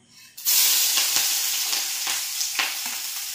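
Onion, green chili and capsicum fry in hot oil with a loud, steady sizzle, and a few louder bursts come as the vegetables are stirred. No one speaks.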